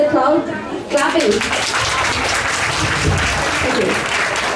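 Crowd at the ISKCON Milton Rathayatra 2024 festival clapping loudly and steadily, a dense wash of many hands after a brief voice at the start.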